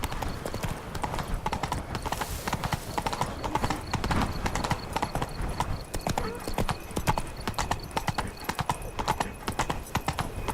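Hooves of Geralt's horse Roach trotting in The Witcher 3: Blood and Wine, a steady clip-clop rhythm running throughout under game music and ambient noise, with a brief whinny-like burst near the start.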